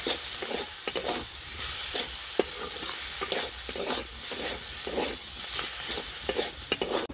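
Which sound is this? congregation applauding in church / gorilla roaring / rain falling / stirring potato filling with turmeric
stirring potato filling with turmeric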